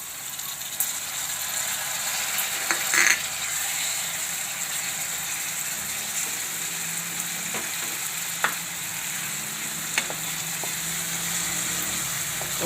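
Tomatoes fry in hot oil in a pan for a carrot and pea curry, a steady soft sizzle running throughout with a few faint clicks of stirring scattered across it.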